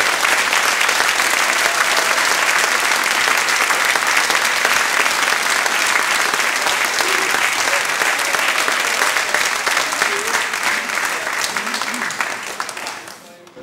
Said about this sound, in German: Jens Sørensen, aber wir bedanken uns auch, ja bitte, Applaus, natürlich.